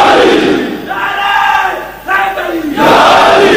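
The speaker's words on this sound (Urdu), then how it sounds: "زور لاؤ بھائی زور نعرے حیدری بل کر کے نعرہ لاؤ" A large crowd at a religious speech gathering roars the Nara-e-Haidari slogan, with loud massed voices surging in drawn-out waves of chanting.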